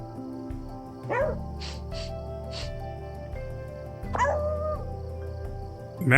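A dog in a video game lets out a couple of short barks and yips over a steady, tonal game soundtrack, fairly close and clear.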